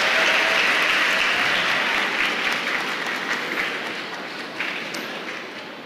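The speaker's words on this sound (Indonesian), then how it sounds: "Beri tepuk tangan yang meriah buat Bapak Ibu pimpinan UNES." A university audience claps loudly and steadily to welcome campus leaders at a student send-off ceremony, a dense wash of applause that tapers slightly toward the end.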